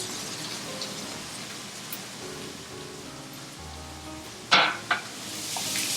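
An egg frying in a pan for shrimp fried rice gives a soft, steady sizzle, fairly quiet, broken near the end by a couple of sharp bright scrapes or clatters, with no talking.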